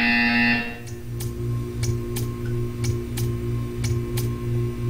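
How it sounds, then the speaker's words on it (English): A repeating electronic buzzer from the Portal 2 video game sounds in a steady rhythm of short pulses over a humming mechanical background, preceded by a brief bright tone. "You will hear a buzzer."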